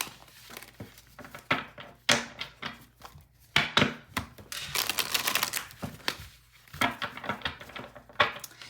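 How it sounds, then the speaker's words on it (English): A tarot card deck is shuffled by hand, giving a steady run of papery riffles, taps and slides that fill the whole stretch, fairly close with no talking. "I'm gonna shuffle the tarot deck a little bit"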